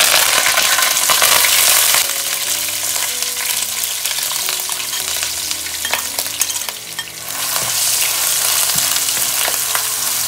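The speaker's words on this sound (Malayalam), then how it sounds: "ഈ ഉള്ളിയുടെയും ഇഞ്ചി വെളുത്തുള്ളിയുടെയൊക്കെ ആ പച്ച മണമൊന്ന് മാറി വരുന്നത് വരെ നല്ലപോലെ വഴറ്റിയെടുക്കണം" Crushed shallots, garlic, ginger, slit green chili and curry leaves sauté in hot oil with a loud, close sizzle and frequent scraping and clinking of a stirring spoon; the hiss dips briefly midway, then surges again.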